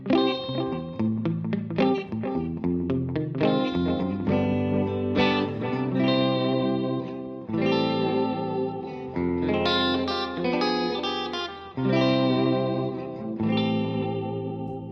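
Electric guitar played through a 1950s-style echo unit, performing a tune: slow, sustained notes and chords with heavy echo and shimmering repeats, played alone and steadily.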